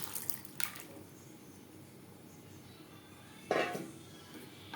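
A spoon stirs boiled mung dal into bottle gourd in a cooking pan, giving a few soft clinks and wet squishing sounds spread apart over a faint, quiet background.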